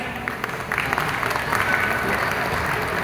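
An audience applauds at a Telugu community celebration in Riyadh, Saudi Arabia, with steady clapping building after the first half second and continuing throughout, crowd noise mixed in.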